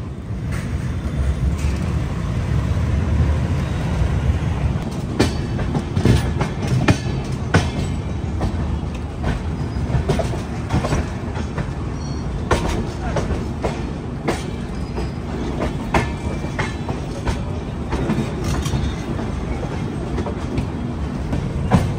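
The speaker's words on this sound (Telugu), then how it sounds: "Shunting locomotive." A shunting locomotive rumbles at Jhansi railway station, with a continuous loud diesel drone, rattling and clanking of rolling stock, and wheel clicks over the tracks, close by.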